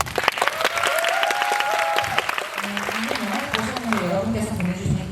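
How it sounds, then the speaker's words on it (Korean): Audience applause at a film festival screening Q&A in Busan, a dense clatter of clapping filling the room throughout, with a voice speaking over it partway through. "여러분께서 보내주신 이 박수가 진심으로 우러난 박수이길 바랍니다."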